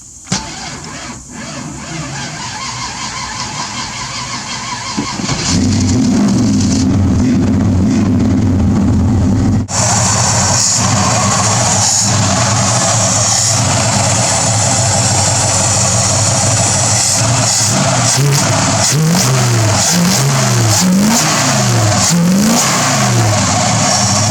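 A Chevrolet S-10 with a V8 engine and a newly swapped carburetor cranks, catches and starts, then roars into loud, close revving and a rough, slightly hesitant idle that runs steadily to the end.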